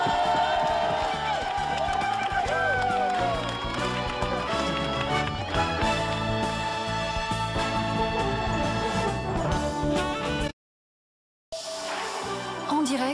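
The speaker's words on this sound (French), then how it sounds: "Encore des applaudissements pour toute l'équipe." A studio crowd at the 2017 Téléthon cheers and applauds for the team over loud music. The sound cuts out briefly and then resumes.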